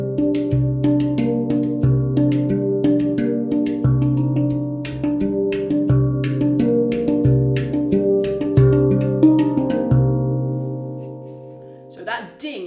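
A handpan played in a lively 2/4 time, with clear resonant tones struck in a steady repeating pattern and ringing overtones, loud and close, then fading near the end.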